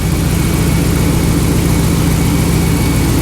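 A swapped-in Hemi V8 idles in a Dodge RAM 1500 pickup, a loud, steady, low rumble with an even throb. It runs close and continuous, with no voices over it.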